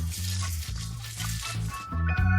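Potatoes fry in hot oil with a steady sizzle, accompanied by clattering and stirring, close and moderately loud, with a background music-like pulse.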